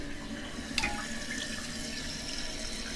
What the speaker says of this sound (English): Toilet's filling up.